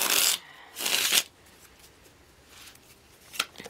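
Tarot cards being shuffled in two quick riffling bursts, then a quieter pause and a brief final flick, close and crisp.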